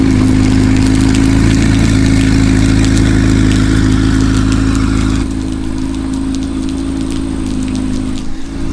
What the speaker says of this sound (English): The fact that that startup was in stealth mode with the valves closed